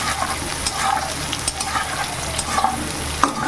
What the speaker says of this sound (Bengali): পেঁয়াজটাকে একটু ভাজা ভাজা করবো